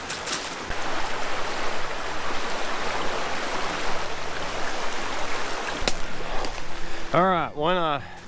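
Water flows steadily through a creek in the woods, a continuous close rushing hiss, with a short tonal call breaking in just before the end.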